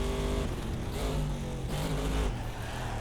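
A race car engine in the video game Race Driver: GRiD drones loudly and steadily, its pitch dropping and climbing again as gears change, with no voices.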